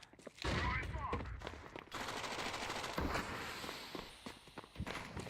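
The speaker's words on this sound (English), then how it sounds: "Flashbang out." In a shooter video game, a sharp blast hits at the start, then bursts of gunfire and scattered impacts and footsteps crackle through the rest of the moment at moderate volume.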